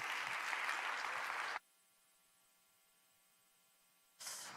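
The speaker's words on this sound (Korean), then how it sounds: "큰 박수로 환영해 주시기 바랍니다." A crowd at a church youth worship service claps to welcome a preacher, with dense applause for about a second and a half. The sound cuts to silence, then a short burst of clapping returns at the end.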